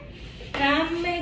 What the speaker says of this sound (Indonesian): Rame kan kucing aku.